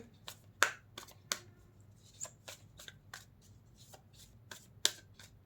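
Tarot cards are shuffled and drawn close by, giving a run of quick, crisp flicks and snaps in an irregular rhythm with a few louder slaps of cards against the deck, and no talking.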